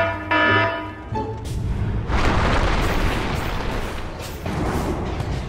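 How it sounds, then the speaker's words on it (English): A Dota 2 middle tower collapses in a video game, a heavy booming crash with rumbling debris that swells, dips and surges again for several seconds, close and loud. "Radiant's middle tower is falling."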